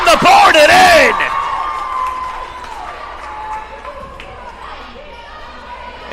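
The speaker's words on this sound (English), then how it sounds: "And going with a little bit of the Fortnite cheer" A volleyball crowd in a high school gym breaks into a loud rhythmic group cheer after a point is scored, with whooping voices at the start that fade into a lingering echoing crowd murmur.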